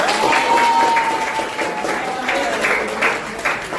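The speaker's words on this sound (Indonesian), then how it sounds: "Tepuk tangan dong" A class of students applauds together in a steady, busy patter of many hands, with murmuring voices mixed in beneath the clapping throughout.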